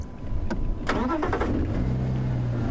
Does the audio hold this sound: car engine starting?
yes